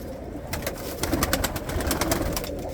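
Pigeons coo in soft, low, repeated calls, fairly close, over a rustling background with light flapping and scratching.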